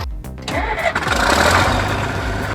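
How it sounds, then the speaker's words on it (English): A Soviet-era bulldozer's 190-horsepower YAMZ diesel engine cranks and catches, then settles into a loud, steady, rumbling run close by, with no voices. "With a YAMZ diesel engine pushing 190 horsepower, this beast doesn't blink at hard work."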